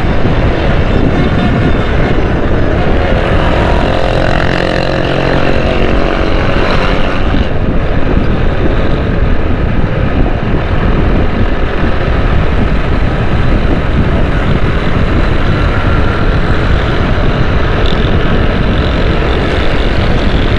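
Riding a motorcycle through city traffic in Karachi gives a continuous, loud engine drone with heavy wind rumble on the microphone, steady for the whole stretch with no talking.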